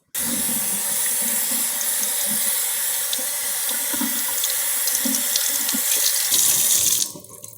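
Water runs steadily from a tap while hair is rinsed and wet before shampooing, a continuous close splashing rush that cuts off near the end.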